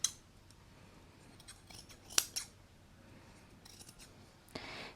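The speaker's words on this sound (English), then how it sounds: "I'm just going to cut along that seam." Scissors snip along a fabric seam of a Winnie the Pooh piece for junk journaling, a few sharp, close cuts spread across a quiet room, with one crisp snip standing out mid-way and a longer rustling cut at the end.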